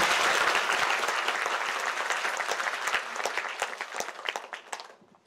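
Sustained applause from an audience of families and guests at a Korean university nursing school's Nightingale pledge ceremony, loud at first and gradually thinning into scattered claps before fading out.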